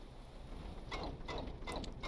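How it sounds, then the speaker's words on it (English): In the Stormworks game, a modular boat engine stalls and its starter cranks it again and again, a quiet engine hum broken by several short whirring bursts spaced about half a second apart. "you hear how it keeps having to do the starter? Well, we're actively stalling our motor."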